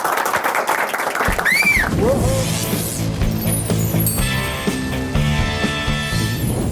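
A television studio audience claps as a comedy show segment begins, the applause mixed with a swooping sound effect and then a bright musical sting with sustained tones, fairly loud throughout.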